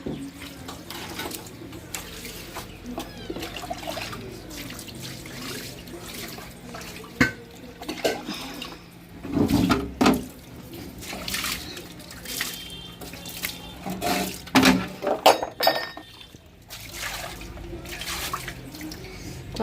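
Water is poured over a gas stove as it is washed during cleaning, giving intermittent splashing and trickling with a few louder bursts, close by and without talk.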